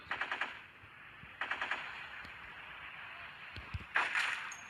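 Gunfire in a modern sniper video game, heard as short bursts of rapid shots at the start and again near the middle, then a louder shot toward the end over a quiet background hiss.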